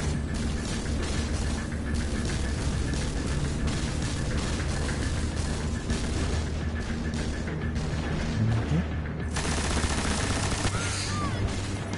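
Sustained rapid gunfire and booming blasts from combat in the video game Destiny, a dense continuous barrage at steady loudness throughout.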